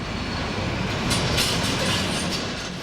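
Intercity train rolling along the Rhine between Cologne and Frankfurt, a loud, steady rumble of wheels on track with faint rhythmic clatter, close and unbroken, with no voices.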